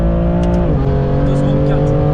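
A 580 hp BMW M3 F80 pulls hard, its engine note droning loud and steady from inside the car with a pitch shift at a gear change, while people talk over it.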